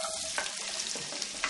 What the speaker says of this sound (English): you just want to cook these onions until they're nice and tender and lightly golden